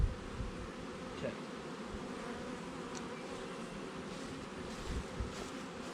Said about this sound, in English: Most of those bees will go airborne.